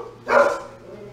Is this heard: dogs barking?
yes